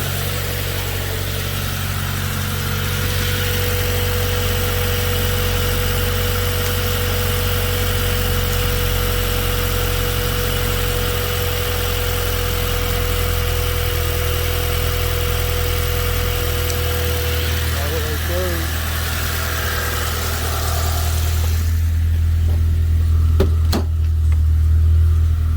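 A 1991 Honda Civic hatchback engine idles steadily and fairly loudly on its own, a constant mid-pitched hum with a brief change near the end as the idle shifts.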